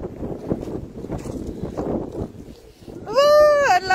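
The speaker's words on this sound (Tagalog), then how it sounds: "So malakas ang hangin." Low, gusty wind buffets the microphone in a steady roar, and a high tonal wail rises near the end.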